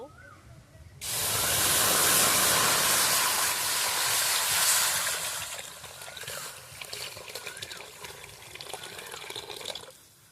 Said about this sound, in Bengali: কড়াইতে দু লিটার মতো জল দেব